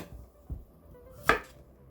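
Squash being chopped with a knife on a cutting board, a few separate thuds spaced apart, with one sharper, louder cut near the end, close by and without talk.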